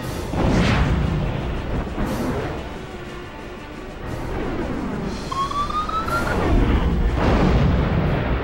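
Missile salvo fired in a flight combat game: several whooshing launches and rocket streaks with booming blasts, loud and dense over a continuous rumbling background, with rising tonal streaks near the end.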